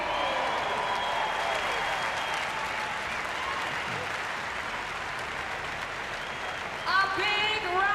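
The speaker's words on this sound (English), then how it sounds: "A big round of applause for our top" A large crowd applauds at the 2019 Reebok CrossFit Games finale, dense sustained clapping with cheering, while a voice speaks over it and whistles rise near the end.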